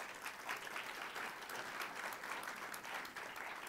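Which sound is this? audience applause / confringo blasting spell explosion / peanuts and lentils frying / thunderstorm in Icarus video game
audience applause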